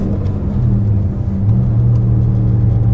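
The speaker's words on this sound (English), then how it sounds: "the engine really likes to kind of stay for a second after you let off" A Rossion Q1's engine rumbles loudly up close, a deep steady drone with the revs lifting partway through and holding high, heard from inside the car while driving.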